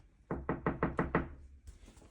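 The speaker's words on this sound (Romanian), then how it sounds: "dacă bați la ușă, atunci vine Shelby." Six quick, evenly spaced knocks rap on a door, close and crisp, followed by a short rustling shuffle as the knocking stops.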